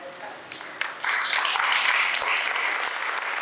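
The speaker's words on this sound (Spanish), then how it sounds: "Dejaron a Rosita sola aplaudiendo" A church congregation applauds during a service, a dense, steady wash of many hands clapping at moderate loudness with no speech over it.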